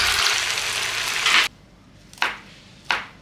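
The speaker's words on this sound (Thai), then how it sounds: "ทำเต้าหู้ทอด" Tofu frying in hot oil gives a loud, close sizzling hiss that stops suddenly, followed by two short bursts of sizzle spaced apart.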